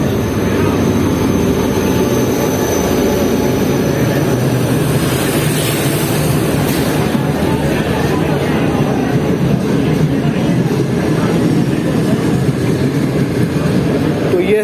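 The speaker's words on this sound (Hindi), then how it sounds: "ट्रेन तकरीबन 10 मिनट लेट क्रॉस कर रही है रिंग रोड रेलवे स्टेशन को" The Green Line Express passenger train rolls loudly through Ring Road railway station, a sustained heavy rumble and rattle of wagons passing close by, with faint voices in the background.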